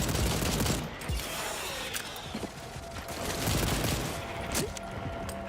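Turret gunfire in the PC shooter Second Extinction rattles in sustained automatic bursts with mechanical clatter, loud and continuous throughout, while creature fighting goes on in the game.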